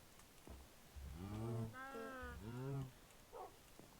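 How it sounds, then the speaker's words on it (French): Minecraft cow mooing in a video game, two long drawn-out moos in a row at moderate loudness, followed by a short softer grunt, with no talk over them. "Allez, viens, la vache."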